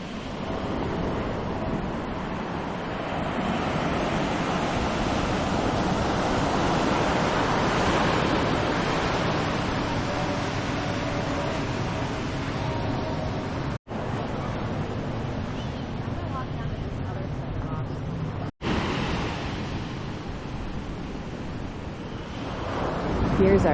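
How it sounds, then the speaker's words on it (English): Ocean waves break and wash up on the beach at Playa Conchas Chinas, Puerto Vallarta, Mexico, with rough surf making a steady, loud roar and wind buffeting the microphone, broken by two brief cuts. "Here's our beach spot for the day."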